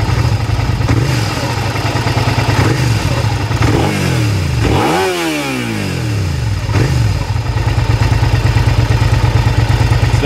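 A 2005 Suzuki SV650S motorcycle engine, idling roughly, then revving sharply up toward 10,000 RPM and dropping back, with a few smaller blips around it, loud and close.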